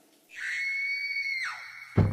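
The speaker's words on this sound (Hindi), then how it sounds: "साथ में अनामिका की भयानक चीख भी सुनाई दी" A woman's terrified scream in an animated Hindi horror story, one sustained high shriek lasting over a second before breaking off, followed by a sudden loud noise at the end.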